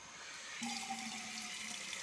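Spring water pours from an outdoor tap into a container being filled, a quiet steady splashing that starts about half a second in and runs on with a faint rising tone.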